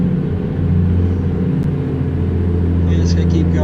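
Peterbilt 350 truck engine in American Truck Simulator, a loud, steady low rumble as the truck downshifts, with a voice talking over it.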